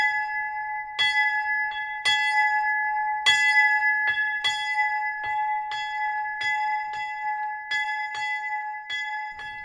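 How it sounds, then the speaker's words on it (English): A bell rung by hand in a quiet outdoor spot beside a pond, about a dozen clear bright strikes at an uneven pace, each ringing on and overlapping the next, with no voices. "I'm ringing for you now the bell of love"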